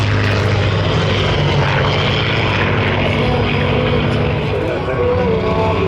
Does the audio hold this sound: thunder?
no